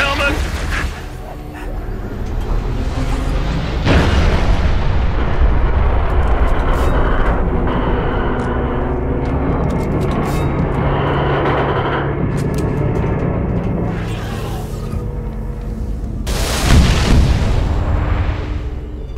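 Final protective fire artillery barrage in Halo Reach, deep rumbling booms and blasts rolling over a continuous low roar, with radio voices talking through the bombardment and a louder impact near the end.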